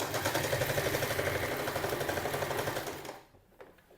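A household sewing machine runs a straight seam, a steady rapid mechanical whirr and stitch rhythm held for about three seconds before stopping, leaving only faint handling noise.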